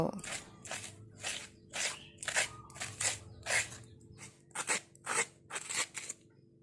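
Cucumber being scraped into thin shreds with a scraper, about a dozen rhythmic rasping strokes close to the ear, with a soft voice murmuring under them.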